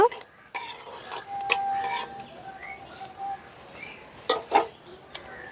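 Bay leaf, dried chilli and cumin frying in oil left over from frying potatoes, with a spatula scraping and stirring in sharp bursts over a faint sizzle and a few high chirps, up close.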